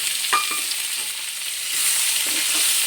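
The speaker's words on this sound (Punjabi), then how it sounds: "ਹੁਣ ਅਸੀਂ ਪਾ ਦਾਂਗੇ ਪਿਆਜ਼" Onions go into frying masala in a kadai, making a continuous close sizzle with a few soft stirring knocks and a slight swell toward the end, with no voices.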